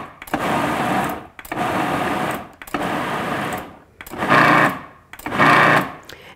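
Food processor pulsing cauliflower in five bursts of about a second each, a loud motor whir with short gaps between pulses, the last two bursts brighter and harsher.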